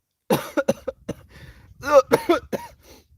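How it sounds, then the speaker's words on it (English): A short run of sharp, harsh coughs close to the microphone, followed by a couple of louder, raspier bursts with brief pauses between. "I read your words and it instantly made me cough"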